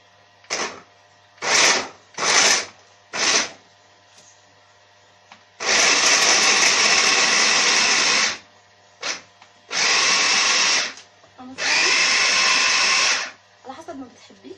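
A food processor mincing vegetables with a little salt: several short pulsed bursts, then longer whirring runs that stop and start, loud and close, with quiet gaps between.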